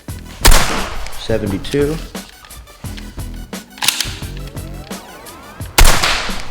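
A Nerf Zombie Strike blaster fires foam darts through a chronograph in several sharp, loud pops spaced across the stretch, with mechanical clicks between shots and a voice speaking briefly.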